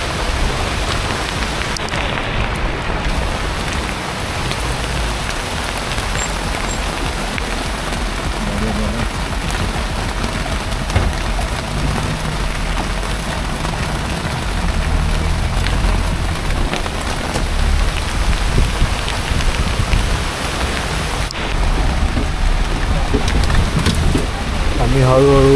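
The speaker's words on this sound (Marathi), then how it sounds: "खतरनाक जोरात पाऊस सुरू झाला एकदम." Heavy rain pours down in a dense forest zone during a motorbike ride on a Yamaha Ray ZR 125, a loud unbroken roar of falling water throughout, with faint voices mixed in underneath.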